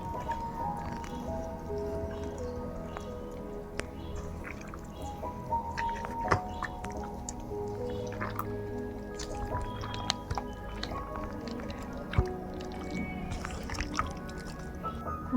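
Wet squelching and squishing as a biryani marinade is kneaded with white oil by hand, soft and close, with a few light knocks and drips and a faint voice in the background.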